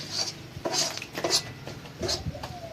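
A metal spoon scrapes and clinks against a wok (kadai) while green pea paste is stirred and dried out for kochuri filling, with repeated bright metallic taps and scrapes in an uneven rhythm, close and moderately loud.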